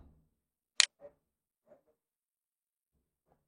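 A few isolated soft clicks from a computer mouse, sharp and close in a quiet room, spaced irregularly rather than in a steady run.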